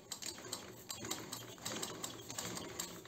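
Umbrella sewing machine stitching thin fabric, running in a steady fast rhythmic chatter of needle strokes, fairly quiet and close, with no talking over it.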